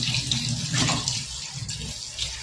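Freshly harvested rooftop-garden vegetables are rinsed under a running tap, a steady close splash and gurgle of water with handling sounds and no talk.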